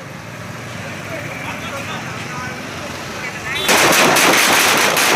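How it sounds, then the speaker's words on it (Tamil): A quiet hum of background noise gives way to a sudden loud burst of rapid firecracker pops at a celebration in Bhuvanagiri, crackling densely and continuously to the end. "புவனகிரியில் பட்டாசு வெடித்து கொண்டாட்டம்."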